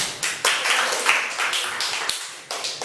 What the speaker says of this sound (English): Applause is in order